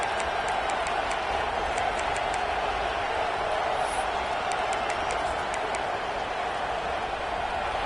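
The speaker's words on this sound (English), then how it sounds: "This crowd ready to make its presence known." Football stadium crowd in Texas cheering, a steady dense roar of many voices held at an even level throughout, with faint ticking clicks on top.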